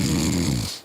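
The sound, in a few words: person artificially imitating snoring during an anti-snoring exercise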